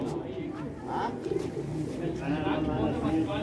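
A flock of pigeons coos softly with low, throaty, repeating calls that blend into a steady murmur, faint and somewhat distant beneath ambient noise.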